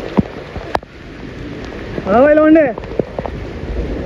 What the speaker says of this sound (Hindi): मैं तो बारिश में नहा रहा हूँ